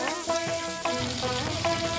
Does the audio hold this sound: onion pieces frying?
yes